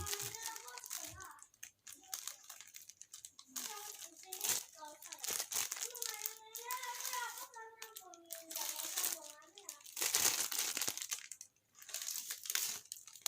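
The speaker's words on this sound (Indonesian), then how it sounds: "Kita coba di selincing plastik sekarang." A steel Willys Gen 1 cattle-slaughter machete slices through plastic sheet, giving repeated crinkling and crunching rustles, close up and intermittent, while a person talks over it.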